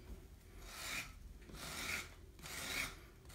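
A Surform rasp made for plaster smooths the edge of a clay slab bowl, three soft rhythmic scraping strokes, close and faint, with no voices.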